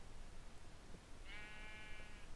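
Sheep bleating in the Minecraft video game, a single short bleat with a wavering tone over a faint, quiet background hiss.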